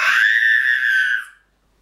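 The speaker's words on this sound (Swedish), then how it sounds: "Varför skriker du så där för?" A young child screams in a sustained, high, strained wail for about a second and a quarter during a tantrum, then it cuts off into near silence. The scream is loud and close, with no talking over it.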